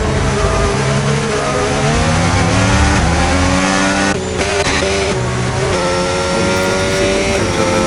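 F1 race cars scream past at Silverstone in the video game F1 25, loud, high-revving engines shifting pitch continuously over nearly eight seconds, with a brief dip in the middle and no speech.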